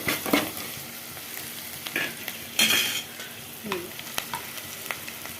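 Salt and ginger fry in a pan while a utensil stirs them, giving scattered metallic scrapes and clinks over a steady sizzle, close by, with no one talking.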